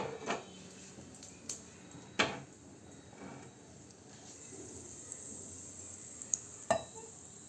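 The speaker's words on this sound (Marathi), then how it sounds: "हे चांगलं तडतडलं की आपण केलेल्या या चटणीमध्ये खमंग फोडणी घालूया" A phodni tempering spits in hot oil, giving sharp, scattered pops and crackles over a quiet hiss, with several louder bursts spread unevenly through it.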